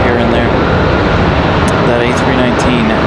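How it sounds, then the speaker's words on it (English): An Airbus A319 jet starting its engines at Raleigh Durham International Airport, a steady broadband roar with a rising whine, heard from just above for a few seconds with a voice talking over it. "we still have this one just below us starting engines. That's what you guys are hearing there."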